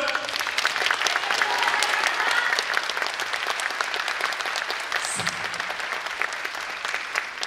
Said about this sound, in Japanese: 温かいご声援と拍手に対しまして心より感謝申し上げます。